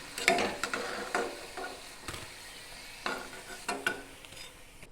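Fried green banana koptas lifted from hot oil with a utensil: a soft, steady sizzle broken by several sharp metallic scrapes and clinks at irregular intervals, close and fairly quiet.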